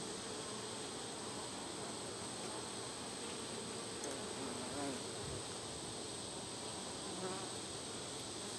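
Honeybees hum in an open hive frame full of eggs and brood, a dense, continuous close buzz with brief louder passes of individual bees, no voices.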